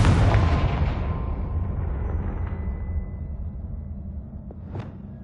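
A deep booming explosion from the Confringo fire spell in the Hogwarts Legacy game, loud at the start and then rolling away into a long fading rumble with a couple of faint cracks near the end.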